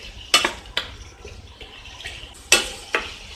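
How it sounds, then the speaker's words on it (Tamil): Shallots, red chillies and tamarind sautéed for kara chutney in a pan, with a few sharp metallic clanks of a spoon against the pan over a quiet background sizzle and no voices. "ஸோ நம்ம புளி சேர்த்துலாத இது எல்லாத்தையும் சேர்த்து வதக்கிக்கோங்க"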